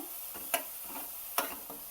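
A spoon stirs a paste into sizzling tempering of garlic and onion for spicy vagharelo rotlo, a soft frying hiss broken by two sharp utensil scrapes against the pan.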